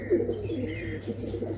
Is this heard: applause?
no